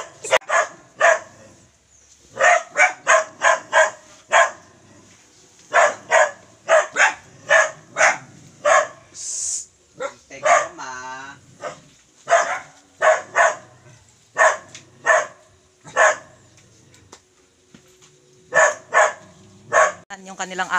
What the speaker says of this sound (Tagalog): Yung kanilang aso, sobrang malakas at maingay.